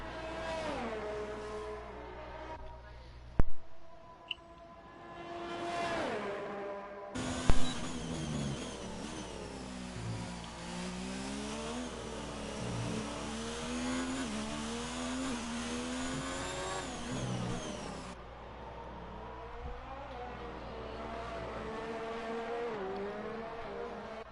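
Formula 1 race cars, including a Haas, roar and shift through corners in the F1 2019 video game, with sustained engine whine rising and falling through gear changes and a couple of sharp transients, no talk.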